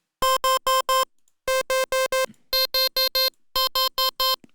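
Default preset on the TAL-Pha software synth, an emulation of the Roland Alpha Juno II, plays sixteen short, bright harmonic stabs in four groups of four, evenly spaced and loud, with no voices.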